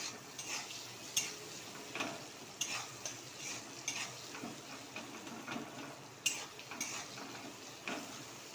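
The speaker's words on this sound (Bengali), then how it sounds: "কড়ায় পেঁয়াজটা দিয়ে দিলাম পেঁয়াজটা লাল লাল করে ভাজা হবে" Onions frying in oil in a wok, a faint sizzle under repeated metallic scrapes and taps of a spatula stirring, with sharp clinks at irregular intervals.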